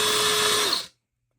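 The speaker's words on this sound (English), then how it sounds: "I'm going to drill a little bit towards the corner and then just work my way into it." A power drill with an oversized bit bores into a diecast toy car body, a steady high whine with grinding for under a second before stopping abruptly.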